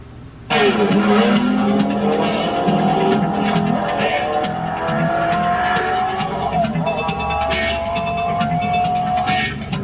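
Race cars speeding in a cartoon, loud engines revving and accelerating with tire squeals and a rising whine, continuous and close, with rapid repeated ticking bursts layered over the roar.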